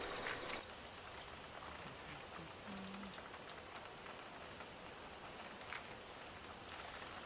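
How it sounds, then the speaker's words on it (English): Steady rain falling on a farm, a faint continuous hiss of drops with soft scattered patter, fairly distant and quiet throughout. "Still raining. Rainy day."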